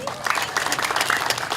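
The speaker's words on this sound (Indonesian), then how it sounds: "Tepuk tangan dulu." Palace ceremony audience giving a brief burst of applause, moderately loud scattered clapping from a crowd heard from a slight distance.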